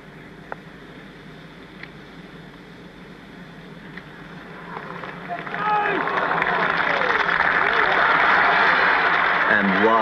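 A large golf gallery at the Open finish swells from a low murmur into loud, sustained cheering and applause around the last hole, the roar holding steady to the end.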